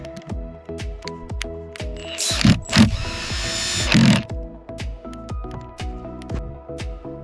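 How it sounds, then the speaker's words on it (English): Lumber being screwed into place during cabin construction from 2x4s, with a burst of louder mechanical driving around the middle amid repeated sharp knocks and ratcheting clicks throughout, fairly close. "Let's screw this into place."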